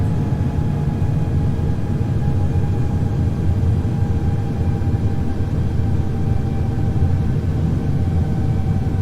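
Airliner in Microsoft Flight Simulator X descending on final approach with gear and flaps extended, a steady low engine drone and rumble with faint tonal hum, unbroken throughout.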